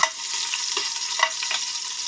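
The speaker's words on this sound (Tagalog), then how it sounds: "igigisa na natin. Gisa natin yung bawang." Garlic sautéing in hot oil as the base for a homemade duck adobo with pineapple: a continuous sizzle broken by sharp spatula scrapes and clicks against the pan.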